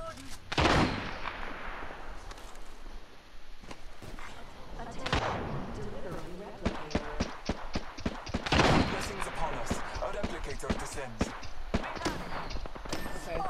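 Enemy gunfire in a shooter game, sharp repeated shots and heavier booms scattered throughout, some close and loud, others more distant, with a voice talking over them.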